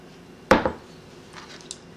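A single sharp clink of a utensil or strainer against a bowl while straining whisked egg wash thinned with a teaspoon of water, followed by faint quiet handling; no talking.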